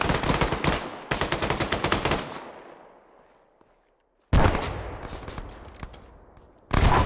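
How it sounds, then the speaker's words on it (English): Rapid bursts of automatic gunfire crack out during a squad training exercise, two long loud strings of shots with a fading echo and a short gap, then another burst starting at the end. "It's a rapid firing gun, I don't know."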